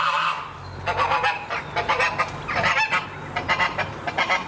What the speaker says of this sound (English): Just a random goose there on somebody's driveway.